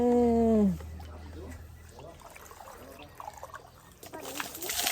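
Water trickles and splashes into a bowl set out for sparrows after a brief tonal sound at the start, with a voice talking over the pouring.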